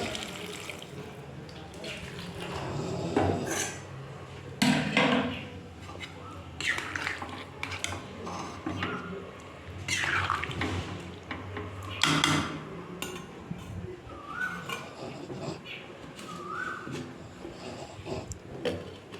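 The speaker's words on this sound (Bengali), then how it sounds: "জল দিয়ে কিন্তু আবার ভালো করে নেড়ে ছেড়ে আমি ঢেকে দেবো" Papaya and potato curry is stirred in a pot with added water. Watery sloshing runs throughout, punctuated by scattered metallic clanks of a spoon and lid, close and moderately loud.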